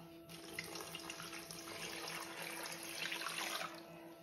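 Water runs steadily into a container at a faint level, a continuous gentle splashing stream lasting about four seconds with no talk.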